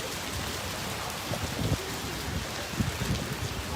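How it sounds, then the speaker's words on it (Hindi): Heavy rain pours outdoors as a dense, steady hiss that covers the whole clip, with a few low rumbles and faint muffled voices underneath. "ज़्यादा ही बारिश हो गई है।"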